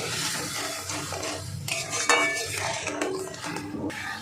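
Raw grated potato, flour and sugar being stirred together in a bowl, giving a steady scraping and clinking of utensil against dish, close and moderately loud, with no talking.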